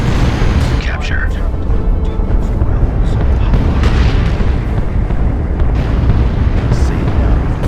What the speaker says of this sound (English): Incoming artillery strike. Clear the target area.